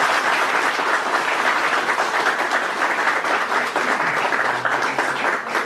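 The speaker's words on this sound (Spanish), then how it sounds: "para quien pido un aplauso muy fuerte" Strong, steady applause from an audience at a humanities and law university forum, thanking the day's speakers, with a dense texture of many hands clapping throughout.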